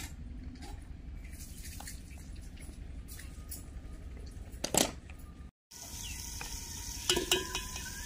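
Onions sizzle and fry in ghee in a pot over an open wood fire in a village, a steady crackling hiss with occasional stirring clatter, a brief gap, then louder popping as cooking resumes.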